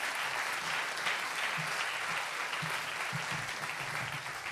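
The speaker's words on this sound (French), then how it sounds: "très applaudi par le public, toujours enthousiaste" Enthusiastic audience applause fills a hall at the closing ceremony of the 36th Mont-Blanc Humour Festival, a steady, even wash of many hands clapping, sustained and moderately distant throughout.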